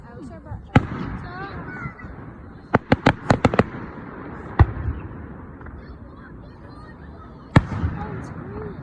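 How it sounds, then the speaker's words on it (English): Outdoor fireworks burst as sharp, loud bangs: a single pop, then a rapid cluster of several cracks, and two more isolated booms later. Voices and excited chatter sound between the blasts. "Oh my God, guys, fireworks!"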